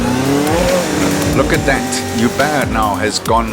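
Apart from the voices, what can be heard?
Lotus Elise race car with Ferrari 488 engine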